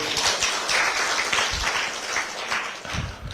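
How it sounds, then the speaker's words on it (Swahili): Audience at a political leadership press briefing bursts into sustained, dense applause, a steady wash of many hands clapping fairly close, with no speech over it. "Tumpige makofi."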